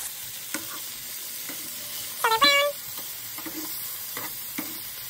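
Pork frying in a home kitchen pan, a steady soft sizzle with a few scraping stirs and a brief sharper clatter midway, no voices.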